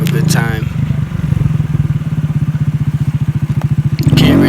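A Honda Grom motorcycle rides through a small downtown area, its single-cylinder engine putting out a steady, close, rapid pulsing idle-to-cruise drone for several seconds after a brief opening noise.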